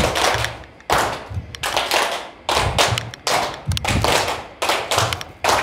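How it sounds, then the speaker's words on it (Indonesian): Teachers at a training session clap their hands together in loud, fairly steady rhythmic bursts with brief pauses between groups of claps, close and dominant, with no talking over them. "tepuk tangan untuk kita semua ya gitu"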